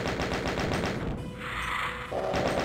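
Rapid chaingun fire from the video game Voxel Doom 2, a steady loud stream of evenly spaced shots with a brief dip and hiss in the middle before the burst resumes.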